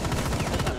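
Rapid gunfire in Rainbow Six Siege, a quick burst of several close, evenly spaced shots lasting under a second, with voices faintly underneath.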